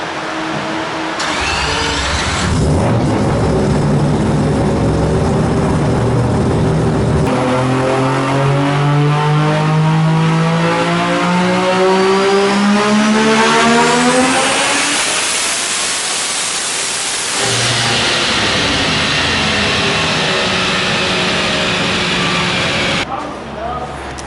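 A Mazda RX-7 FD race car with a 20B rotary engine, running without nitrous, revs hard: a loud, buzzing rotary wail sweeps upward in pitch over many seconds, drops, then holds high again.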